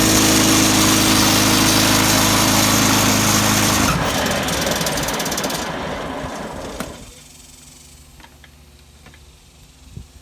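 A John Deere riding mower's small engine runs loud and steady, then rough and fading as it winds down, leaving a quiet ticking after it stops.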